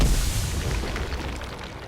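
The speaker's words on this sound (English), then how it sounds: "That was quite an explosion that thing did when it died." A creature dies in the video game Pillars of Eternity with a deep, rumbling explosion that fills the whole moment, loud and boomy, slowly decaying without a sharp onset.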